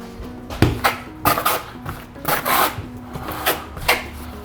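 Notched trowel smearing thinset mortar onto a wall for a subway tile backsplash, producing a series of close, short rasping scrapes in an uneven rhythm, with no talking.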